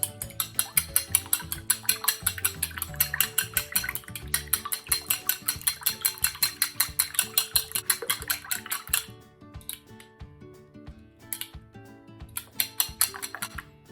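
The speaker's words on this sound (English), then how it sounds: "So beat the egg first." Egg being beaten hard in a bowl for Chinese steamed egg custard, a fast steady clinking of utensil against the dish for about nine seconds, then a few slower, scattered strokes.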